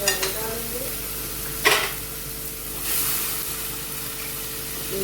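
Vegetables for a vegetable rice pulao frying in a pan with a splash of water, garam masala, salt and chili, giving a steady close sizzle with stirring scrapes and a sharp burst of hiss as the water hits.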